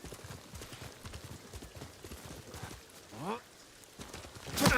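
In a video game, a horse's hooves gallop in a quick, steady clip-clop rhythm, with one brief rising whoosh partway through. A person talks over the hoofbeats.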